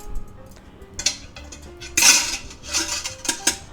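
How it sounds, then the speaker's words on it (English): A metal trivet set down inside a metal Instant Pot pot gives a series of bright clinks and rattles, sharpest around the middle and end, close and fairly loud, with no voices. "and we're going to add our trivet."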